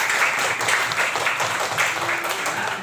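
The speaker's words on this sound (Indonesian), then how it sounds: "Tepuk tangan untuk" A classroom of students applauds in a short burst of dense clapping during a lesson on units of length, with a teacher's voice faintly under it.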